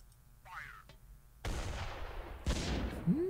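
Indirect artillery fire lands in the strategy game Attrition: Tactical Fronts: two fairly faint booms, each followed by a lingering rumbling decay, with softer game effects before them.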